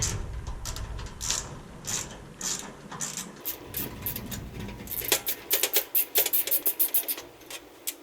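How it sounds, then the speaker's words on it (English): A 1/4 socket ratchet backs screws out of a water heater burner assembly, with quick metallic ratcheting clicks that start irregular and then become a fast, even run of close, crisp pawl ticks near the end. "now we use 1/4 socket and remove the screws that keep this assembly in place"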